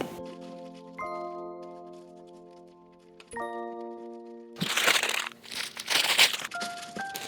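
Thin plastic bags crinkle and rustle loudly and close for a few seconds as butter biscuit dough with cranberries is packed into them, following gentle melodic music.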